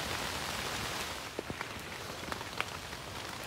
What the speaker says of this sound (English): It says 50 more minutes of light rain.